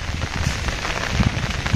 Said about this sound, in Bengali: প্রচুর বৃষ্টি হইতেছে, বাতাস আছে